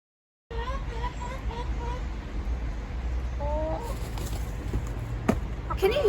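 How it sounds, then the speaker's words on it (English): Chickens cluck and call softly outdoors over a low, steady background hum, with small bird chirps scattered through. "Ooh, and the chickens."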